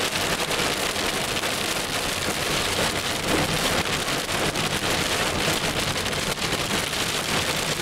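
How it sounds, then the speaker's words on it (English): Heavy rainstorm pouring down near Citrus College in Southern California, with broad steady roar of rain on surfaces and possible thunder, loud and continuous throughout with no talking. "What a storm."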